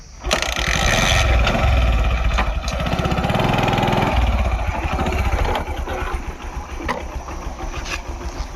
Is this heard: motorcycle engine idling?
yes